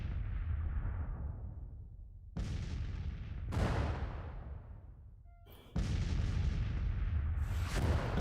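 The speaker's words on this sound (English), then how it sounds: "You are counter battery firing." Artillery counter-battery fire in the Civil War strategy game Grand Tactician: three or four heavy booming cannon shots, each with a long rolling decay, loud and alone without talk.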